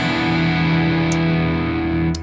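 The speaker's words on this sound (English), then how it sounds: "That's the amp sound, and then the overdrive. And then I have a little bit of darkened Echo Boy stereo delay." An electric guitar through an amp with overdrive and a darkened Echo Boy stereo delay holds loud, sustained distorted chords, with delay repeats sitting softly in the background.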